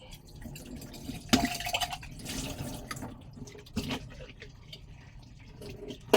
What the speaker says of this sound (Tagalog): mag hugas ako ng plato.